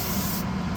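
An airbrush sprays paint in a short, steady burst of close, loud hissing, with no voices.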